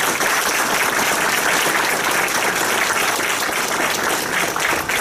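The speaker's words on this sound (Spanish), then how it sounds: "Aplauso, por favor." A conference audience applauds to welcome the speaker of a keynote lecture on leadership, engineering and development, producing a dense, steady burst of many hands clapping at close range, unbroken for about five seconds.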